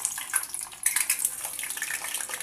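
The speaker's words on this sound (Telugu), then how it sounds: "ఆయిల్ వేడైన తర్వాత మనం ఎగ్స్ అనేటివి వేసుకున్నాం" Eggs deep-frying in hot oil give a close, dense crackling hiss that stays bright and continuous, with small irregular pops and bursts throughout.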